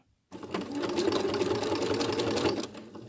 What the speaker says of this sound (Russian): пришиваю уже совсем тоненьким зигзагом на двоечке вот эту пряжу нитками уже в цвет